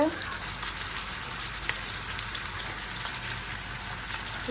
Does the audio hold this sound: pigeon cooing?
no